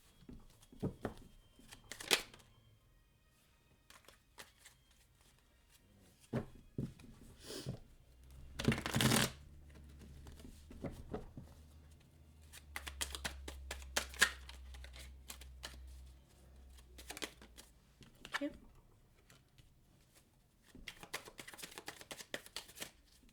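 Tarot cards being shuffled and handled, with scattered soft riffles, slides and taps across a quiet stretch, including a louder riffle burst near the middle; no talk.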